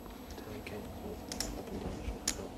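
Playing cards shuffled and dealt at a televised poker table during a European Open tournament hand: soft, sparse card clicks and snaps in a quiet room with low background murmur.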